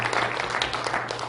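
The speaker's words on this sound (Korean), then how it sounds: "우리 지사 선생님하고 또 성가대님들 격려의 박수 한번 보내드리겠습니다." A congregation at a Sunday worship service in a Hanam Full Gospel church gives the choir a brief, dense burst of steady applause.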